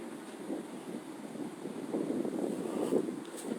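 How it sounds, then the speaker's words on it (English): Outdoor wind buffets a microphone in a low, gusty rumble that surges unevenly and grows stronger toward the end, with no speech. "if y'all can hear me through this wind"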